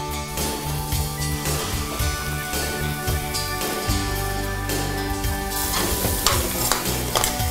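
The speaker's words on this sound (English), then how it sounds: "Mix it well." Cumin, chili and turmeric powders stirred with mixed vegetables in a hot pan for tomato biryani, a continuous close sizzle with repeated scraping strokes of a spoon and steady busy clatter throughout.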